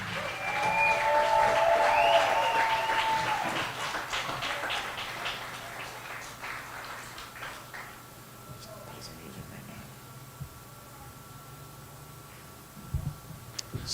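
A crowd at a high school baseball Senior Day applauds the seniors and their families, clapping strongly at first and then thinning into scattered claps as an announcer's voice carries over a public address system.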